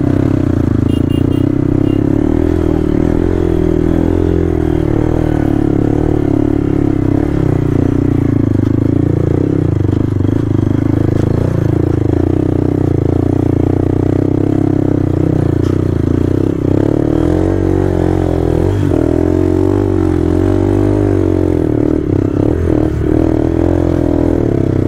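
An offroad motorcycle, such as a BMW 310 GS or Hero XPulse 200, labours up a steep dirt slope, its engine droning loud and close with fluctuating revs, rattling and scraping throughout.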